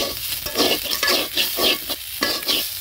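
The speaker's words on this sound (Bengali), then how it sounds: "এখন নেড়ে নিচ্ছি" Goat stomach fries in a pan for a Bengali dish while a spoon stirs it steadily, making a series of rhythmic scraping strokes over continuous close, loud sizzling.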